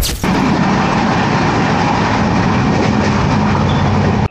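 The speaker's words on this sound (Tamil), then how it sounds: "திருச்சியில் இருந்து சென்னைக்கு நைட் டைமில் டெடிக்கேட்டடாக ரன் ஆகிறது இந்த ட்ரெயின் தாங்க." A night train running from Tiruchirappalli to Chennai rumbles loud and steady throughout, a continuous broadband roar of rolling wheels and carriages with no talking.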